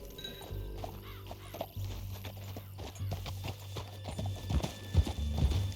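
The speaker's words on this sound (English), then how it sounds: "Back on your horse, let's get after them." Horse hooves galloping in Red Dead Redemption 2, a quick steady clip-clop rhythm of several strides up close, with low rumbling game ambience, occasional thuds and no talking.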